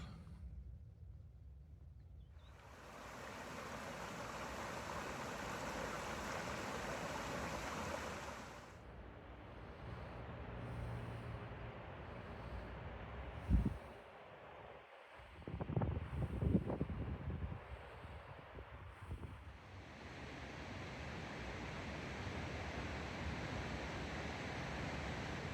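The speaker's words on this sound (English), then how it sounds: "we'll see if you can hear me over the sounds of the river" Steady rushing water noise fills most of the clip, loud and broadband, with a quieter gap and some brief knocks and bumps near the middle.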